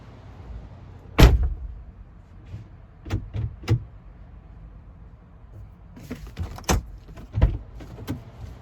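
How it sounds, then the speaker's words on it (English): A 2007-2014 Chevrolet truck's exterior door handle is pulled and the door opened, giving a sharp latch clack followed by several lighter clicks and clunks, then more mechanical rattles and a final thud, all close up. "me opening the door because all this worked"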